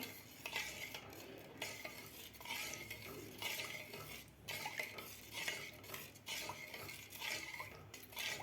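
Jowar flour porridge (ambil) being stirred steadily in a cooking pot, with a spoon scraping and clinking against the sides in repeated close strokes, quiet and continuous with no talking.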